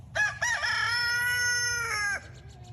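A single loud rooster crow nearby, a long drawn-out call lasting about two seconds, followed by quiet.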